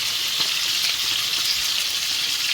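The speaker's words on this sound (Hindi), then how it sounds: "मच्छी तो फ्राई हो रहा है" Fish fries in a pan of hot oil in a home kitchen, giving a loud, close, continuous sizzle with small crackles and no talk.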